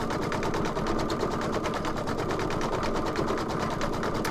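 An embroidery machine stitches out a sampler design, giving a fast, steady mechanical chatter of needle strokes, close and continuous with no talking.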